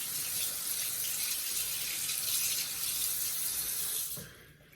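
Tap water running steadily into a sink while an edge brush for hair is rinsed, a continuous close splashing rush that cuts off near the end.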